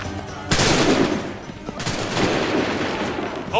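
Massed musket volleys from Assassin's Creed 3's Battle at Lexington, two sharp loud bursts of rolling gunfire about a second apart, each trailing into a crackling tail, with brief voices in the background.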